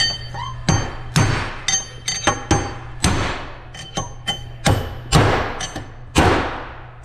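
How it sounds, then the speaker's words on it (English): Sharp metal hammer blows drive a spacer into the gearbox of a Case or New Holland track loader final drive, about a dozen irregular close, loud strikes ringing out with no talk. "you can go ahead and smack that back to the back until it bottoms out"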